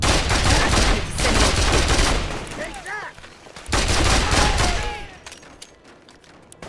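Heavy gunfire from a .50 cal machine gun in the war video game Mercenaries 2: World in Flames, loud dense bursts in two long stretches broken by a short lull, with someone shouting briefly over the shooting.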